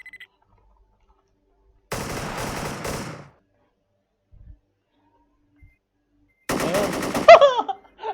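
Rapid automatic gunfire in a video game, in two loud bursts of about a second each separated by near silence, with a faint shot or two between them and echoing after the second burst.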